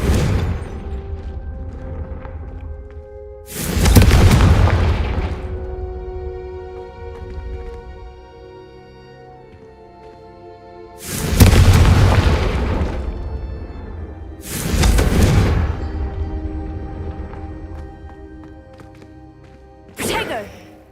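Confringo spell explosions in a Harry Potter video game: four loud booming blasts at irregular intervals, each with a crashing burst that rings out and decays over a sustained musical tone.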